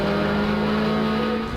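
Race car engine roaring steadily at high revs as it pulls through the gears down a drag track, a loud, sustained near drone with strong steady harmonics and no pause.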